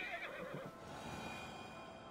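Horse in Assassin's Creed Valhalla whinnies loudly in a single shrill, wavering neigh lasting under a second, then fades into a quieter game background with a steady high tone.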